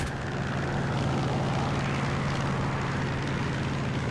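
An F4U-4 Corsair's piston engine in the War Thunder video game drones as a continuous, loud propeller roar in high-altitude flight, steady throughout with no voices.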